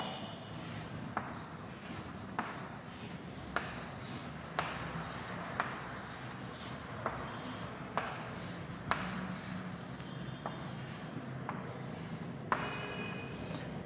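Writing and drawing lines on a board during a solid-state lesson makes quiet, continuous scratchy strokes, with small regular taps as each stroke starts, heard close and alone.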